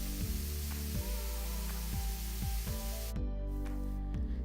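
Onions fry in a pan with a continuous hissing sizzle, broken by regular soft scraping knocks as they are stirred, close and fairly quiet.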